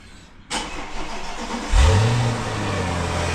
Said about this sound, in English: So this is a cold start, which is why it's so loud, because the exhaust valves are open.